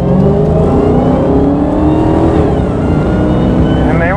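A Dodge Charger Hellcat, reduced to about 500 horsepower, accelerates hard with a loud, close engine roar whose harmonics climb steadily through the rev range, heard from inside the car.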